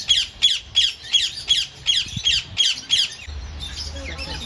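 A turquoisine parrot gives a rapid series of about nine sharp, close squawks in a regular rhythm, then stops, leaving low background rumble.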